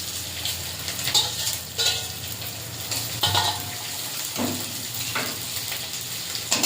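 Chopped onion and green chili sizzling in hot oil in a kadai with five-spice tempering, a steady loud crackling fry with brief stirring clatters, close and continuous.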